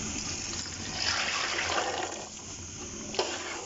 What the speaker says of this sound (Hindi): मैं पानी अंदाजे से डालती हूँ।